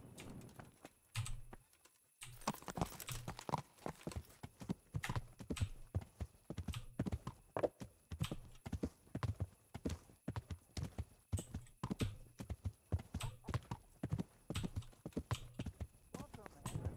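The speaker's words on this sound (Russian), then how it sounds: "Почему-то не могла на площадь просто выйти лошадь." Horse hooves clip-clop on a town square in the video game Kingdom Come: Deliverance, a steady, even trotting rhythm of close, crisp hoofbeats that runs throughout.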